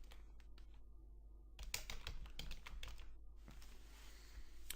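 Fingers type on a computer keyboard nearby, a steady patter of quiet key clicks in quick irregular runs with brief pauses, set against a faint constant hum.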